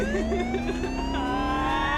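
An ambulance siren sounds steadily through an animated story, wailing in sustained rising and falling tones that are loud and continuous, with no voices over it.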